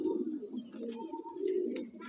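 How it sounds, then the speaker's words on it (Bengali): A green male Dobaj pigeon coos steadily in a low, throaty murmur, with faint chirps from other birds in the background. The cooing is close and continuous. "এই একটা সবুজ নর পায়রা দেখাচ্ছে, দোবাজ, দেখুন খুব সুন্দর পায়রা।"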